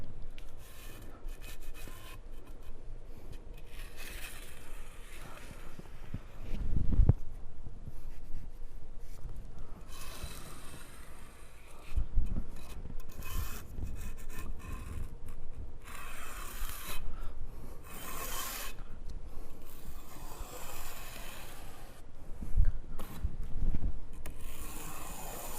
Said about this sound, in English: I'm removing any air pockets, embedding that piece of banding to the membrane